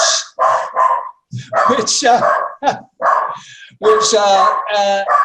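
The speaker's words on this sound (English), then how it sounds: "That's my dog, everybody." A dog barks repeatedly in short yapping bursts close to the microphone, overlapping continuous speech during an indoor online discussion.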